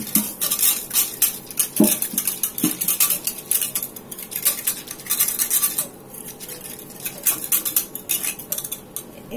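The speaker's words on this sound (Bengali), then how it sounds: "গুড়টা দিয়ে দেওয়ার পরে এভাবে একটু নেড়ে নিলে এখানে ফেনা ফেনাটা চলে আসে" A spoon clinks and scrapes against a metal pot while date molasses tea is stirred to raise froth, a steady run of close, bright metallic taps and rattles with no voices.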